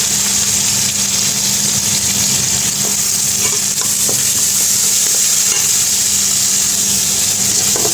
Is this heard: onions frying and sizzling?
yes